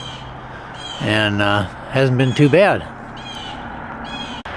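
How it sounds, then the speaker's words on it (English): Crow-like birds caw in the background at a museum campground along a fence line, a few harsh calls rising and falling while someone talks close by. "You can probably hear some birds in the background."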